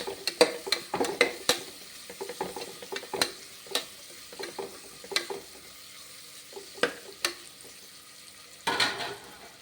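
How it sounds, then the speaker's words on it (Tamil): Green chilies and onions sizzling in a pan while a spoon scrapes and stirs repeatedly, with clinks of utensil against metal throughout. "பச்சை மிளகாயும் வெங்காயமும் கொஞ்சம் நல்லா வதங்கணும்."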